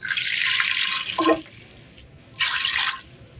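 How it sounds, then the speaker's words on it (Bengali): Water pours into a pot of potatoes and chickpeas, a steady hissing splash in two bursts separated by a short pause, close and fairly loud with no talk. "চলো একটু পরিমাণ মতন আমি জল দিয়ে নিয়ে সেদ্ধ করে নিই"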